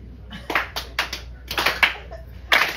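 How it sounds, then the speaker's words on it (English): A small comedy club audience at an open mic claps in scattered, uneven bursts, close and fairly light, with no talking over it. "And as I point, you start clapping."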